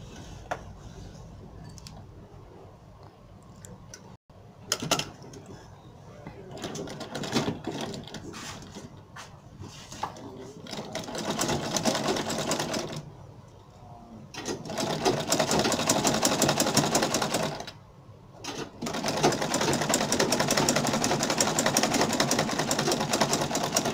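A sewing machine stitches Ankara print fabric for shorts, its rapid mechanical whir running in bursts with brief pauses and stops, growing louder and steadier in the later stretches.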